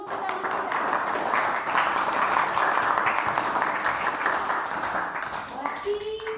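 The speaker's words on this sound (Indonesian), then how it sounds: "Tepuk tangan dulu untuk kami." A classroom group claps hands together, a dense continuous patter of applause with talk running over it throughout.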